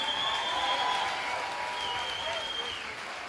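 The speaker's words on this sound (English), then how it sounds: "a big hand, a round of applause for these two fighters" Audience applause for two fighters at a fight event, a steady wash of clapping filling the room with a faint crowd murmur, holding loud and even before easing slightly toward the end.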